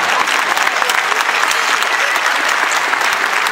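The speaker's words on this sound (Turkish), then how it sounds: "Alkışlayabilirsiniz ara." A theater audience at Cem Özer's one-man comedy show claps continuously in a thick, even wash of applause that holds steady throughout.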